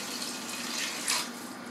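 Water splashes and runs into a pot while Tokyo soup is being made, a continuous close pouring hiss with a brief louder gush near the end, no voices.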